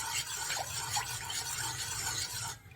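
A spoon stirs agar agar powder into coconut water in a bowl, giving a soft, steady scraping and swishing that runs evenly and close, then drops off briefly near the end.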